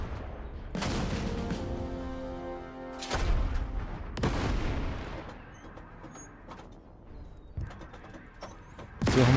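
Tank cannon fire in the strategy video game Total Tank Generals: several loud booming shots with ringing, decaying tails, spaced a few seconds apart.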